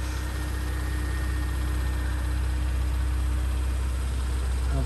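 A Porsche Cayenne 3.6 V6 S Tiptronic idles smoothly and continuously, with a low, steady exhaust throb at the rear and no voices.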